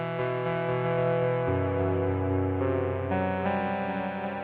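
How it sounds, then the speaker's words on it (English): Synthesized song notes played through heavy distortion and reverb effects, sustained buzzy tones stepping through a few pitch changes with a smeared, echoing tail, loud and steady without speech. "That's a reverb on that one"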